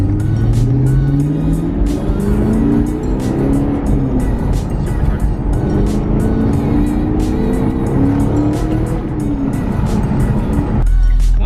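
Car with a 10-speed 5.0 engine drives past at speed, its loud engine tone rising and falling over a constant roar of wind and road noise, with no talking.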